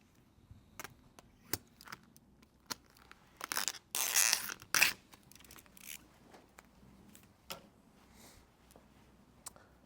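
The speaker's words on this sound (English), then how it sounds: "I'll trim this off a little bit." Scissors trim carbon fiber paint protection film on a car headlight: sparse, sharp snips and ticks with a louder burst of cutting and crinkling in the middle, close and otherwise quiet.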